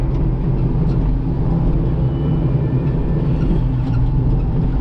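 A Komatsu PC88 MR-8 excavator fitted with a Diesel Equipment tilt bucket digs out ground for an addition, its diesel engine droning loud and steady at close range with gritty, clattering texture and no voices.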